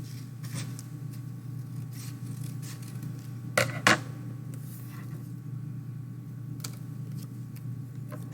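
Paper being cut with scissors for a paper bag fox craft: a few short snips stand out around the middle, close and crisp over a steady low room hum, with no talking.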